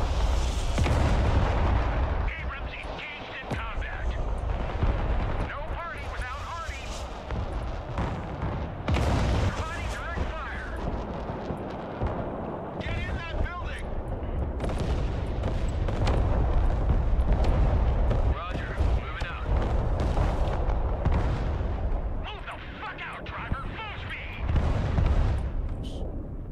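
Artillery fire rumbles through a 5v5 battle in the video game Broken Arrow: repeated heavy booms and blasts roll on continuously and loudly, with a voice speaking over the barrage at times.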